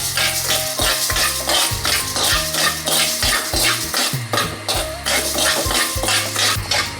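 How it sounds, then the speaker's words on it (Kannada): Horse gram dry-roasting in a pan on a gas stove, stirred briskly with a metal spoon: dense rhythmic scraping and clinking close up, the dry seeds rattling against the pan, with low hum underneath and no talk. "ಮೊದಲಿಗೆ ಗ್ಯಾಸ್ ಆನ್ ಮಾಡಿ ಇಟ್ಟು 3 ಚಮಚೆಯಷ್ಟು ಹುರುಳಿಕಾಳು ಡ್ರೈ ಆಗಿ ಹುರಿಬೇಕು"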